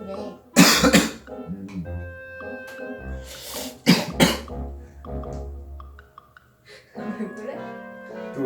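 Several sharp coughs from steam off boiling ramen burst out in a loose cluster, close and loud, with people talking and murmuring between them.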